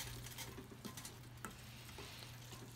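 Aglio e olio being stirred and tossed in a pan sizzles steadily, with scraping and clinking of the utensil against the pan, quiet and close, with no talk.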